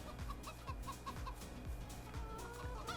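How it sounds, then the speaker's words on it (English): Chickens cluck repeatedly over a steady synthetic game background in Farming Simulator 22, short clucks recurring in a loose rhythm. "Now for the chickens"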